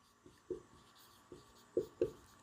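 Chalk or marker writing notes on a board during a biology lesson on the thyroid and parathyroid glands, heard as a few separate scratchy strokes and taps, fairly close and clear with no talk.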